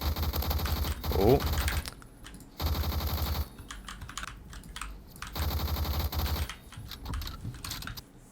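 Bursts of rapid automatic gunfire from the AUG A1 para rifle in the Phantom Forces shooter game, three sustained strings of shots separated by short pauses, loud and close, with a brief voiced exclamation in between.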